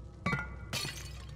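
Objects breaking in the dark horror game Little Nightmares: two sharp crashes of shattering glass, the second brighter and longer, each followed by clinking debris over a low ambient hum.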